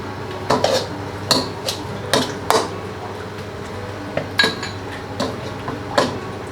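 Thai duck larb salad with lime, chilli, spring onion, coriander and kaffir lime leaves mixed in a bowl, a series of sharp clinks and scrapes of utensil against dish at an irregular rhythm, close and distinct.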